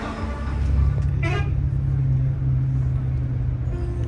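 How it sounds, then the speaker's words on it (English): A Volvo AC semi-sleeper bus rumbles with a low, steady engine drone, with a brief horn-like tone near the start, surrounded by road noise and people talking. "This is our Volvo bus"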